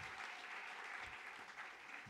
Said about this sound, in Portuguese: Vamos aplaudir ao Rei da Glória, ao Senhor dos Exércitos.